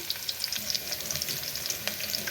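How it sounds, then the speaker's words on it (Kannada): Soaked rice frying in hot oil for North Karnataka biranji rice, a steady close sizzle with crackling pops and occasional stirring, no talk. "ರೀ ಇದಕ್ಕೆ ಅಕ್ಕಿನ ಆ ಎಣ್ಣೆ ಆಯಿಲ್ ಐತಲ್ಲ ರೀ ಅದ್ರಾಗನ ಸ್ವಲ್ಪ ಫ್ರೈ ಮಾಡ್ಬೇಕು ರೀ"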